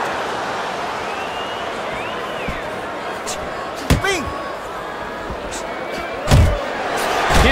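Two heavy punches from the boxing video game Fight Night Champion land as a combination with sharp smacking thuds, a second impact following a couple of seconds later, over a steady crowd roar and commentary.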